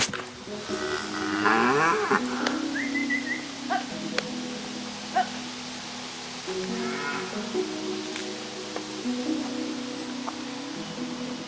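Cattle moo on a farm in several drawn-out, moderately loud calls spread across the scene, with light rustling and patter in the background.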